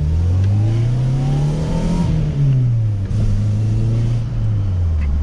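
A Volkswagen Polo MK3 with a 1.6 engine is revved hard, its note climbing and falling in a couple of loud, close sweeps with a steady idle hum between them.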